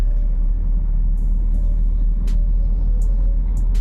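Road traffic on the Terminal 3 approach road at Delhi airport, heard as a loud, continuous low rumble of vehicles with a few brief, sharp high bursts over it and no talking.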